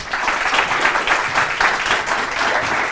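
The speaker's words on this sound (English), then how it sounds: "please join me in welcoming, with a thunderous applause, Dr. Ganesha Kaur." A live audience at a televised debate show breaks into steady, dense applause, many hands clapping together at full volume without pause.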